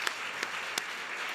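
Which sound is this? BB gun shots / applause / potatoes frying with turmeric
applause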